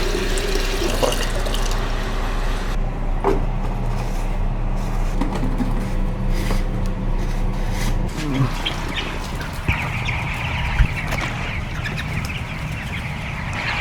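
Water runs and splashes as trays are filled for thirsty chickens in a large poultry farm nursery, a steady faucet-like hiss under scattered clucks and chirps from the birds, with a brief change in the flow partway through.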